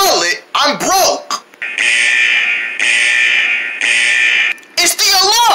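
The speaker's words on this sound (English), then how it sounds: "It's the alarm." An alarm rings in three long, loud, steady bursts of roughly a second each, separated by short gaps, with a voice speaking before and after the ringing.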